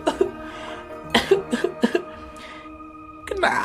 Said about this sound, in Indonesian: Batuk terus nih.